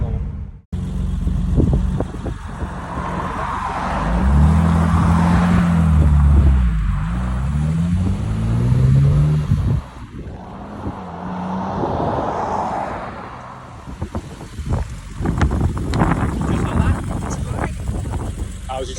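A restored BMW E30 Cabriolet engine not yet at full temperature idles and revs, its rising and falling engine tones running throughout, close and loud, with people talking over it.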